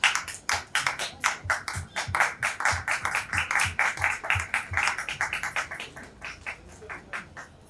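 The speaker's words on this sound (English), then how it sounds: "Can we have a big applause for Miss Gul Panag on stage?" An audience claps as Gul Panag comes on stage at a preview event for Tata Mumbai Marathon shoes and apparel. The clapping is steady, even and rhythmic, with sharp repeated claps running the whole time before slowly easing.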